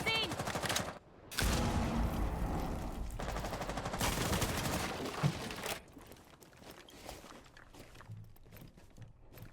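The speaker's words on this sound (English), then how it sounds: "There's bursts of contact, gunfire one way, drones fly in the other" Dense bursts of rapid gunfire in the video game Rainbow Six Siege crackle loudly for several seconds, then drop away to scattered quieter shots and rustling, with a brief voice underneath.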